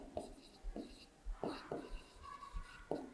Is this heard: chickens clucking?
no